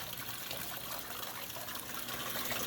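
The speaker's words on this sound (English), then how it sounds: "how much more vigorously the waterfall is flowing now" Aquarium tank waterfall after a filter change, pouring vigorously in a steady soft splashing rush that runs unbroken and fairly quiet, with no talking.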